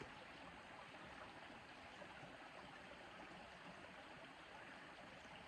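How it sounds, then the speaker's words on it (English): A creek flows steadily around rocks outdoors, a constant, even rush of water with no voices. "you hear how the creek is flowing very consistently, lovingly, efficiently."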